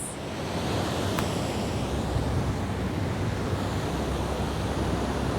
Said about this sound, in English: Notice the sound of the waves behind us.